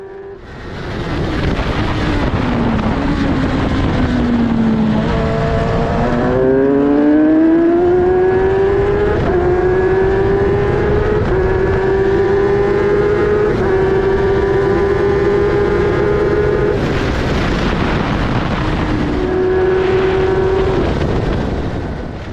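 Open-wheel race car on a test day at Donington Park, its engine wailing loud and close as throttle is fed in, pitch climbing steadily through the gears, dipping briefly at shifts, with wind rush over the microphone.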